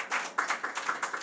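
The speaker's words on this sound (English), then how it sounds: "Let's give the opposition a round of applause." A round of applause at a young professionals' debate, a few seconds of steady hand clapping from an audience, moderately loud and close, with no talk over it.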